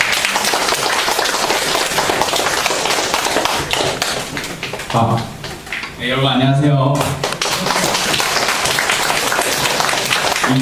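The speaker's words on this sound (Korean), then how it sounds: "큰 박수로 맞아주세요" An audience at a lecture concert claps loudly and continuously to welcome a student speaker, and the applause pauses briefly while a voice greets the crowd, then resumes.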